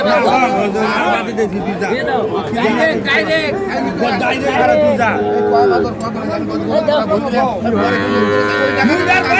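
At a busy Eid cattle market, a Sahiwal bull calf gives several loud drawn-out moos close by, mixed with constant chatter and shouting from the crowd around it.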